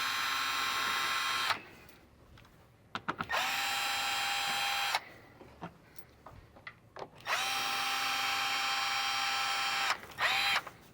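Power drill backing screws out of the upper panels of a Polaris Xpedition Gen 2 side-by-side, in three sustained whirring bursts separated by short pauses with clicks and handling noise, close and loud, no talking.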